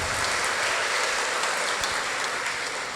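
A crowd at a Muhammadiyah and Aisyiyah regional assembly applauds in a dense, hissing wash of clapping that stays steady and fairly loud for the whole stretch, with no voices over it.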